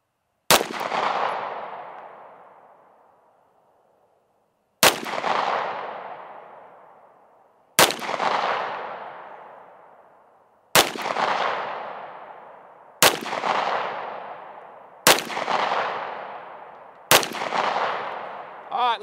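A CZ Shadow 2 pistol fired at a target, seven loud, sharp single shots spaced a few seconds apart, each cracking and then ringing out in a long decaying echo.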